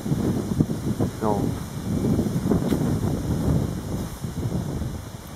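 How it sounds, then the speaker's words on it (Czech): Wind gusting outdoors at a countryside cottage, a steady broadband rush with buffeting bursts against the microphone throughout, while a person talks over it. "snad to video bude slyšet přes ten vítr tady, jsme na chalupě"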